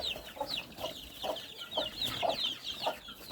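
Chickens cluck in a farmyard, a series of short, fairly close clucks in an uneven rhythm with higher squawky notes layered above.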